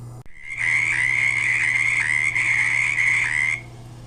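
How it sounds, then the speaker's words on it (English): A Pacific coast frog gives its mating call, a loud, continuous raspy trill held for about three seconds, close and clear, with no talking over it. "So here we have Pacific coast frog"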